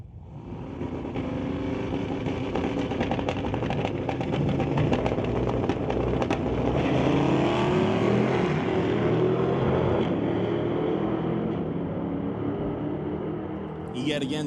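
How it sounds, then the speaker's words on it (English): A Chevrolet Malibu launching and accelerating down a drag strip at Mission Raceway Park during a Friday night street legal event, a loud sustained engine roar that builds and holds before easing off, with a track announcer's voice under it. "Next on up, we'll bring up Steve Scheffer, racing the Malibu on the far side."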